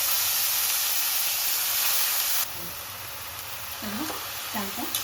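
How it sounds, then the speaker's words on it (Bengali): Soaked rice for shahi pulao fries in a pan with a loud, bright sizzling hiss that suddenly drops to a softer steady sizzle halfway through, while a voice speaks briefly near the end. "এবং চালটা নেড়েছে ভেজে নিচ্ছি"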